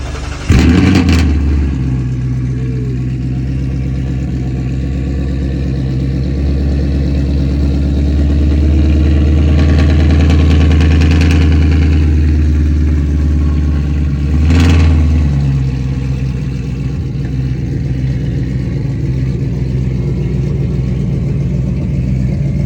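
A supercharged Ford Mustang running on E85 fires up with a sharp start and then settles into a loud, close, lumpy idle with a brief blip of revs partway through.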